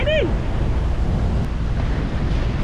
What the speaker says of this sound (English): It's quite windy at the moment